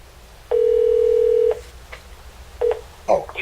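A phone number is keyed into a telephone system, first one long touch-tone beep and then a couple of shorter tones with clicks between, loud and close with no voices.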